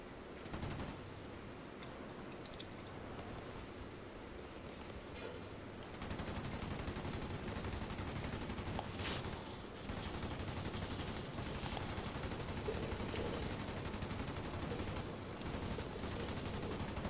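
Sustained gunfire and cannon bursts from a War Thunder battle, loud and dense for the whole stretch, with a sharp crack near the middle and a heavier barrage from the midpoint on, set against constant engine and battle rumble.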